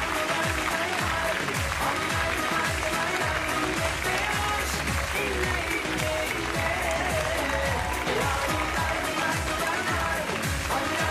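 A large audience at a Turkish pop music awards ceremony claps loudly and continuously as a singer is called to the stage, a dense, sustained wall of applause with faint crowd murmur.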